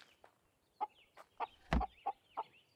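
A chicken clucks in a survival video game, a series of short, evenly spaced clucks with one louder squawk in the middle, fairly quiet and heard alone without talk.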